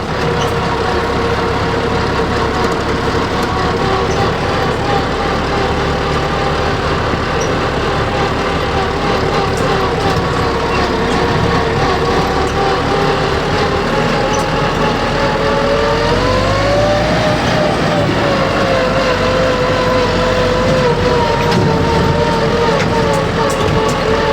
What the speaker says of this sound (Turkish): Traktörle bir dağ gezintisi yapalım.